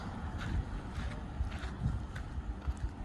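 Outdoor wind in Sedona, Arizona on a 97-degree day buffets the microphone in a steady, rumbling rush with gusty swells throughout, with no voices.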